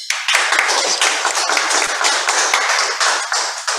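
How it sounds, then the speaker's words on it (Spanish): Warm applause from a seminar audience after a lecture on the history of the international labor union movement, dense steady clapping with sharp individual claps throughout, close and loud, no talking. "pido a todos ustedes un caluroso aplauso"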